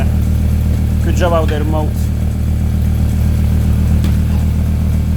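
A Toyota MR2 VR5 turbo engine holds a steady, droning exhaust note at near-constant throttle. A person briefly speaks over it near the start.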